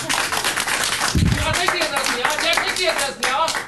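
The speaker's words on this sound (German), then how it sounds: "Ich klatsche für den Sudel-Ede" Dense applause fills a TV studio, many hands clapping at once in a steady patter, with a voice speaking over it.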